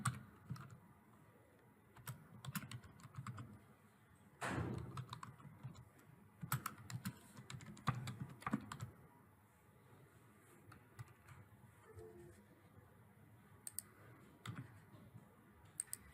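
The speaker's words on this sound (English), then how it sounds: "We just typed sales person commission, enter twice to get to A4" Typing on a computer keyboard while entering text into an Excel spreadsheet, quiet bursts of key clicks in irregular runs with a few heavier taps, close by and soft, without voices.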